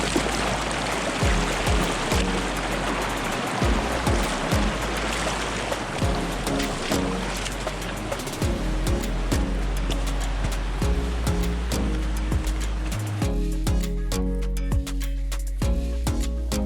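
River water in a slot canyon rushes and splashes steadily, loud and close, with scattered knocks and sloshes from wading, easing into a quieter trickle near the end.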